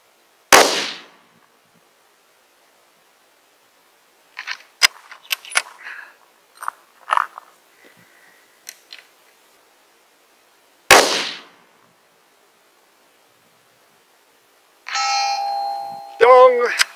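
A 25-06 rifle firing 135-grain Berger bullets at a 12-inch steel target one mile away: two sharp, loud muzzle cracks several seconds apart, with a voice talking between them and a faint distant ring of steel.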